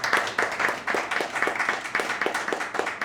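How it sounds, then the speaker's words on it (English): A small audience at a public speaking class claps in a round of applause, a modest group with a loose rhythmic pattern of claps, steady and fairly close for a few seconds. "ladies and gentlemen, please give a round of applause for the exam."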